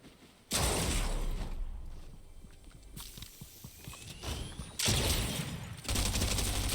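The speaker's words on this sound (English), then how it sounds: "You saw I whiffed my SMG shots" Rapid bursts of SMG fire and heavier shotgun blasts in a Fortnite-style shooter game, loud and close, with dense overlapping shots in several clusters and brief quieter gaps between.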